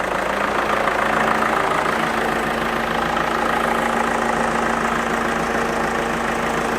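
A diesel engine idles roughly and is at risk of stalling, a loud, close, continuous rumble with a steady low hum running throughout and no voices.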